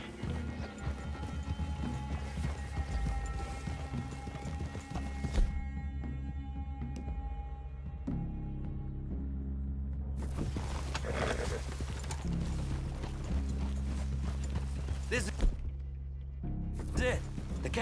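Horses' hooves clip-clop steadily in Red Dead Redemption 2 as riders move through a wooded clearing, a continuous rhythmic plodding under game music and characters talking.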